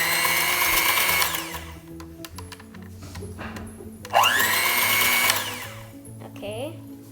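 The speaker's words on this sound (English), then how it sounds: "then I'll use the blender jet to mix it" Electric blender whirring through cupcake batter in a home kitchen, its motor whine rising and dropping in loud bursts with short pauses between.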